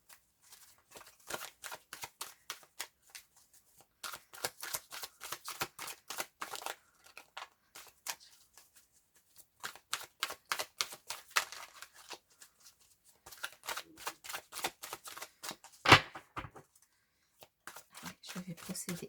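Oracle cards being shuffled close up, with quick papery riffling bursts in repeated runs and short pauses between them.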